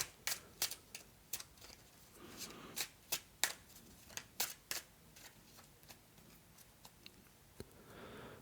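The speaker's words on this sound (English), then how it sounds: "the other 2 cards we just put back in the deck and give it a quick shuffle" A deck of cards is given a quick shuffle during a solo tabletop game, with a series of soft riffling snaps and flicks in irregular bursts, close but quiet.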